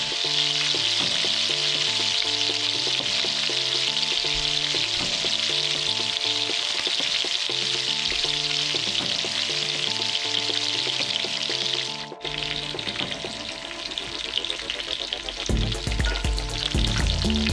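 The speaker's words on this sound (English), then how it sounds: "now to get a wonderful sear on these filet mignons" Filet mignon steaks searing in bacon fat, a loud, dense, unbroken sizzle that holds steady close up, with background music playing beneath and a brief dip and shift in the sound partway through.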